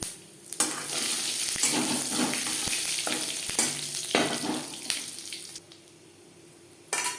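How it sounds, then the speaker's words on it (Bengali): Panch phoron spices crackle and sizzle in hot oil in a wok, a loud, close frying hiss broken by a few stirring clanks, with no talking. "কড়াইতে আবারও তেল দিয়েছি ফোড়নে দিয়ে দিলাম পাঁচ ফোড়ন"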